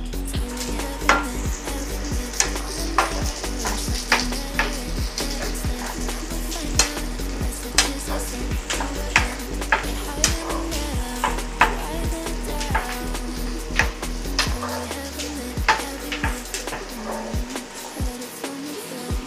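Three medium-sized sliced onions fry in a pan on the way to golden brown for a simple chicken fry, with a steady sizzle and repeated scraping stirs, each clack of the utensil clearly audible up close.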